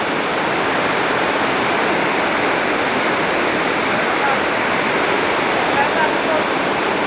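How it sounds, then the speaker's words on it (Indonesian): Heavy rain pours down steadily and loudly throughout, a dense continuous hiss and drumming during a religious study talk, with no voices heard. "Karena hujannya deras."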